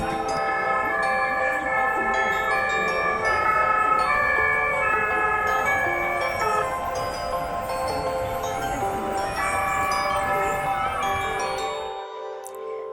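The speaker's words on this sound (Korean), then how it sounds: "산 꼭대기에 불이 나서 소방차들이 출동을 하고 있어요." Several wailing sirens rise and fall together in overlapping tones, loud and steady, ending abruptly.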